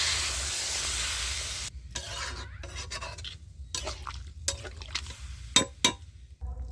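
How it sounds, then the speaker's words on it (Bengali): Water poured into a pan of frying cumin and poppy seed spices for a papaya and potato curry, a loud hiss that cuts off, followed by scattered bubbling, stirring scrapes and sharp clicks, without speech. "তো এবার আমি পরিমাণ মতো জল দিয়ে দিচ্ছি।"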